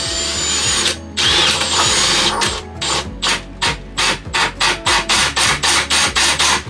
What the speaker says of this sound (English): Let your drill bit get the pilot hole.